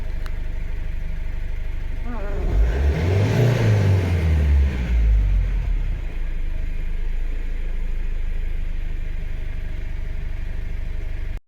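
A Foton van with a Cummins 2.8 diesel engine idles steadily, then revs up once, briefly climbs and falls back to idle, heard close and continuous without any talk.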